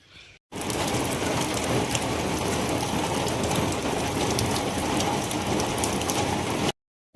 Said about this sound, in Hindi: हमारे यहाँ ना सुबह से बारिश रुक नहीं रही है,